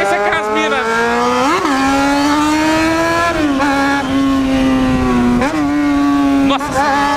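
Yamaha XJ6 motorcycle engine revving hard, loud and close, with repeated throttle blips rising and falling over a sustained high-pitched howl.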